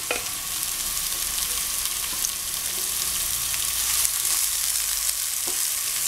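Pepper sautéing in a pan with onion makes a continuous, close sizzle and crackle with a few soft stirring knocks, alone without talk.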